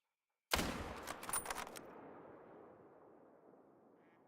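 A single loud rifle shot while hunting in theHunter, a sharp crack followed by a long rolling echo that fades away slowly over several seconds, with no voices.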